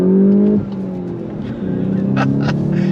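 A 2024 Volkswagen GTI 380 with a six-speed manual pulls hard on throttle, its engine note dropping at a gear change and then building again as it keeps accelerating, loud and close.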